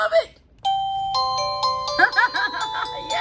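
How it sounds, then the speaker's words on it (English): A household doorbell plays a multi-note chime melody, ringing tones layered and sustained over a low background hum after a brief opening sound. "that would be horrible to hear every time somebody rings my doorbell"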